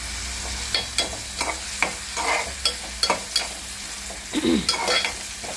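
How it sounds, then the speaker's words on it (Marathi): Onion frying in oil in a pan on a gas stove: a constant sizzle with repeated sharp scraping strokes from stirring, close and fairly loud, and no talking. "आता आपण गॅस चालू केलेला आहे, कांदा टाकलेला आहे। आता ह्याच्यामध्ये आपण तेल ॲड करत आहोत।"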